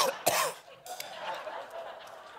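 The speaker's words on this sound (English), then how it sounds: "If a patient started coughing," A single sharp cough near the start, followed by softer throaty sounds and faint background noise.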